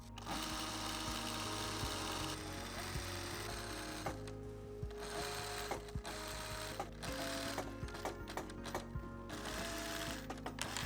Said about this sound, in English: skilled workers take over, sewing the fabric into the prepared patterns and adding the final finishing touches by hand